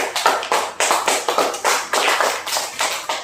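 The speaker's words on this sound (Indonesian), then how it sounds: "tepuk tangan" Students clap in a classroom in rhythmic, repeated bursts of hand claps, about a dozen sharp pulses close by, steady and lively with no talking.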